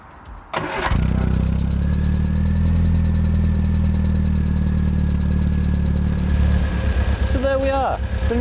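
A Triumph Spitfire with a newly replaced fuel pump cranks and fires up, then settles into a loud, steady, close-up idle that runs unbroken for several seconds.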